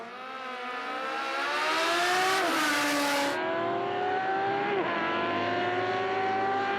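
Suzuki and Kawasaki drag racing motorcycles roar loudly side by side at a national drag meet, engines screaming up through rising gear changes with sharp shifts and a sustained high-pitched wail.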